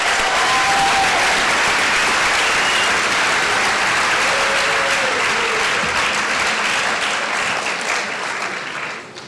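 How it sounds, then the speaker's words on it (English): Sustained applause from a crowd at a high school senior awards ceremony, loud and steady throughout, tapering slightly near the end with no talk over it. "We'd want to give you all a last round of applause as congratulations to end your senior seasons."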